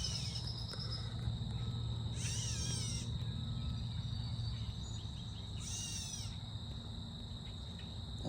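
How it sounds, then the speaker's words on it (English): Woodland bird giving two short, high warbling calls a few seconds apart, heard over a constant shrill insect drone and a low background hum, with no talking. "That's a bird, not a cat."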